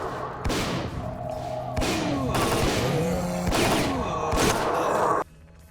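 Sustained gunfire from the video game STALKER: Clear Sky, loud rapid bursts and booming shots layered over each other for about five seconds before cutting off abruptly to a quiet tail.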